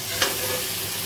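Dried fish roe frying in a pan, giving a steady soft sizzle throughout with one brief stir or scrape near the start, no voices.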